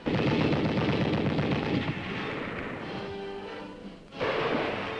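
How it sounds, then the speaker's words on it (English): Infantry weapons fire in a vintage military training exercise, sustained loud bursts of gunfire crackling continuously, then easing into a quieter stretch before another loud volley starts up near the end. "In addition to the M1 rifle, we learned to fire other infantry weapons."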